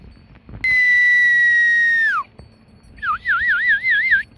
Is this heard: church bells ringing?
no